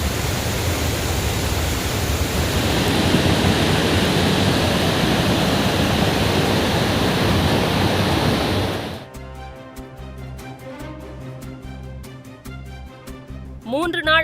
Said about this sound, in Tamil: மழை குறைந்ததால் குற்றால அருவியில் குறைந்த பெருவெள்ளம்.